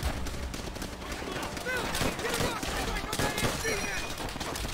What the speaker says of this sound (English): we're getting shot from that MG on the west